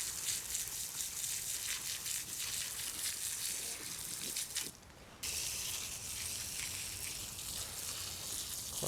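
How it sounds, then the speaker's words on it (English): Water runs steadily while dahlia tubers are washed outdoors, a continuous rushing splash that briefly cuts out midway before resuming, close and fairly loud. "Quite a lot of water being used"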